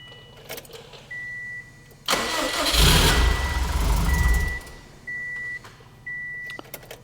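A built Subaru STI engine cranks with the starter, then catches and fires into a loud, rough idle for several seconds before settling back; short electronic beeps chime before and after.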